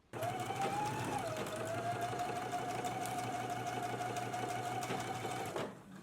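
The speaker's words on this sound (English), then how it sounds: "I'm going to stitch across this using a 1/2 inch seam allowance, back stitching at the beginning and at the end" A sewing machine runs a continuous, even whir while stitching a half-inch fabric seam with backstitching for McCall's M8557, then slows and stops just before the end.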